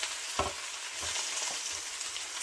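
Potatoes, cabbage and onions frying low in a pan, a soft continuous sizzle broken by three brief stirring scrapes.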